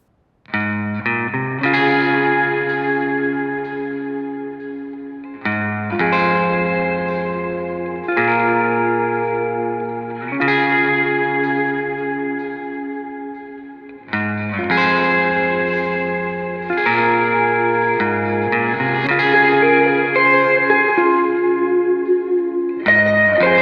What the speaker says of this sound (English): So if we listen to all the guitars together, so we've got the guitar left, the guitar right, and the lead guitar